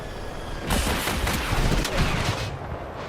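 Gunfire from an aircraft attack run in the Battlefield video game: a quiet lead-in, then a loud, dense burst of rapid shots and explosive booms lasting nearly two seconds before fading.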